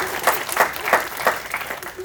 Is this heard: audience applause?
yes